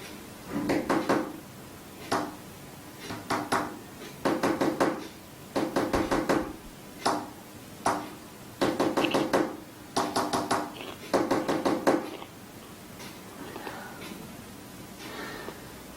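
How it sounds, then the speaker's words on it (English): Sharp knocks on a hard surface come in grouped bursts of quick raps separated by short pauses, tapping out Morse code; the pattern repeats for about twelve seconds, close and fairly loud, then fades to quiet. "That was Morse code."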